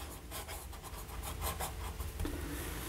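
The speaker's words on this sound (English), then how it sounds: "You can probably hear the scratch on this nib." A Faber-Castell Grip fountain pen with a fine, fairly wet nib scratches across paper in quick, close, faint rubbing strokes that rise and fall irregularly.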